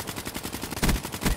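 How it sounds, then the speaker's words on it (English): Gunfire in the video game Black Ops III crackles in rapid, evenly spaced bursts, with two heavier shots standing out near the end. "Ooh, I hear gunshots."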